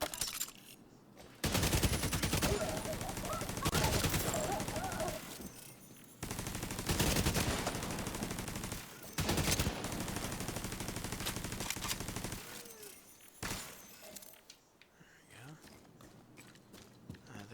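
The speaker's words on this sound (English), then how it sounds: "there's gunfire going off" Bursts of rapid gunfire crackle in long sustained volleys with short pauses between, dense and loud against a busy background, in Tom Clancy's The Division 2.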